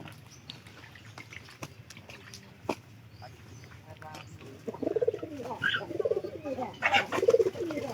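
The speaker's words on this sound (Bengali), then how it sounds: "আলাদা ভাবে খাওয়ানোর জন্য আমরা কবুতরকে আজকে ভাত খাবারটা দিলাম" Pigeons cooing as they eat cooked rice put out for them: soft murmuring coos rise and repeat through the latter half, close by, with faint voices and small clicks in the background.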